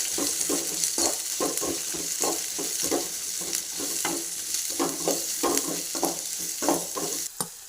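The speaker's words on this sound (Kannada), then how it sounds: "ಇವಾಗ ಈರುಳ್ಳಿ ಹಾಕ್ಕೊತಾ ಇದ್ದೀವಿ. ಬ್ರೌನ್ ಕಲರ್ ಬರೋವರೆಗೂ ಚೆನ್ನಾಗಿ ಫ್ರೈ ಮಾಡಿ ಗಾಯ್ಸ್" Onions frying in oil with cumin in a home kitchen, a close, lively sizzle punctuated by rhythmic spatula stirs and scrapes repeating about every half second, with no voices.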